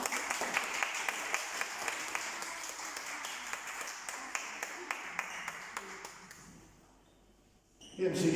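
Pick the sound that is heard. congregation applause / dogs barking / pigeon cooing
congregation applause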